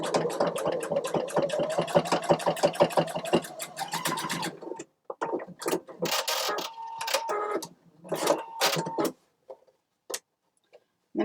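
A sewing machine stitches a needle keeper, first in a fast, steady run of rapid needle ticks, then in shorter stop-start bursts with pauses between them, close and moderately loud.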